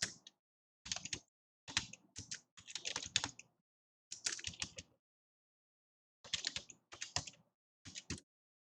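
Computer keyboard used to type code, short bursts of brisk clicking keystrokes separated by pauses of silence, close and clear with no voices.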